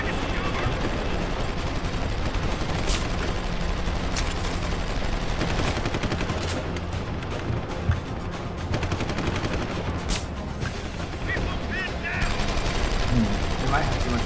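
Dense, sustained rapid gunfire from miniguns in the video game Deus Ex: Human Revolution rattles on almost without pause, mixed with other gameplay noise and occasional talk.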